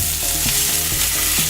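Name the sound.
blackened redfish sizzling in a hot pan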